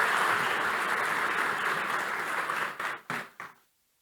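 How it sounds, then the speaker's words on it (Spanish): Audience at a panel event applauds the panelists in a full, dense round of clapping that thins out into a few last isolated claps before falling silent. "vamos a despedir con un fuerte aplauso a nuestros panelistas"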